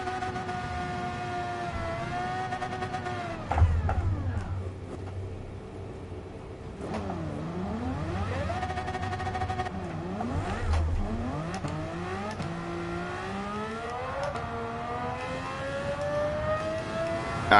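A car engine in Gran Turismo 7 revs up and down repeatedly under light throttle, its pitch sweeping smoothly and sustained at a steady, close level, with one sharper thump partway through.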